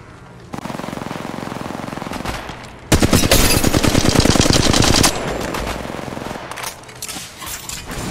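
Sustained automatic gunfire in Apex Legends Mobile, long loud rattling bursts close by with a brief pause as the firing shifts, continuing steadily almost to the end.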